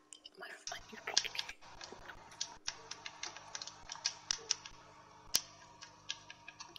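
Rapid, uneven clicking from a computer keyboard during an online game session, close and fairly quiet, with faint whispery voice sounds underneath.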